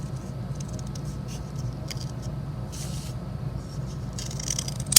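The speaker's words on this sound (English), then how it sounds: "I'm cutting through 4 pieces at once" Scissors cutting through four stacked layers at once for a 3D chameleon craft piece: a steady, close, dry scraping and crunching as the blades work along.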